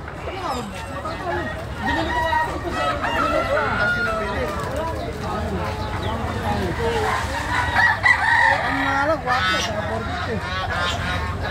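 Native chickens and roosters at a market in Baliwag, Bulacan, with repeated crowing and clucking mixed with honking geese, nearby and loud, under ongoing conversation between people.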